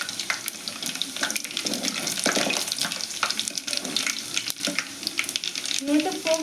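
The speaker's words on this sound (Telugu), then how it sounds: "అయితే పోపు బాగా వేగిందండి" Tempering sizzles and crackles in hot oil for a ridge gourd curry, a steady frying hiss with scattered pops and occasional stirring clinks, close and fairly quiet, continuing without a break.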